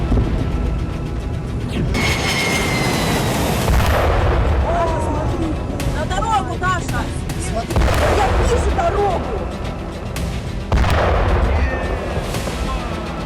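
Explosions go off at a Russian weapons depot, with repeated heavy booms and blasts rolling over a constant rumble. A voice speaks over the din.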